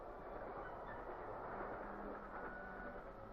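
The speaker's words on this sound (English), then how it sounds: "The bumpety-bump, or rhythm of the rails, is caused by the wheels passing over the joints." A 1950s steam train running at speed on the main line, a steady close rumble and rattle of wheels and carriages rolling over the rails, with no distinct separate clicks.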